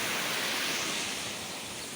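Rainwater rushes across flooded village farm fields and grass with a steady, broadband hiss. The flow is fairly faint and sounds the same for the whole short stretch.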